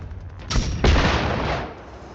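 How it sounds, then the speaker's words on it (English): An explosion in the video game Generation Zero: two quick blasts a fraction of a second apart, then a rumbling roar that fades over a second or so, loud and close. "Oh crap, that's an explosive."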